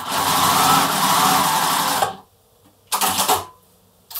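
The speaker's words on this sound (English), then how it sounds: "I'm now going to sew that with 1/4 inch seam all the way along" A sewing machine runs a quarter-inch seam along a quilt border, whirring loudly for about two seconds, then stopping before a shorter burst and a brief final start.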